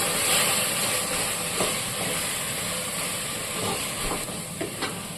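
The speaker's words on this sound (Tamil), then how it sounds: "மசாலாவை எண்ணெயில் நல்லா வதக்கிடணும்" Biryani masala spices sauté in hot oil for chicken dum biryani, giving a steady, loud, dense sizzling hiss throughout with a few faint pops and no talk.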